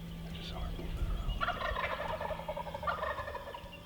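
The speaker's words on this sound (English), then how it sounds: "Pretty soon there's two gobbling." Wild turkeys gobbling from roost trees at dawn, two rattling gobbles a couple of seconds apart, moderately distant over a low steady hum.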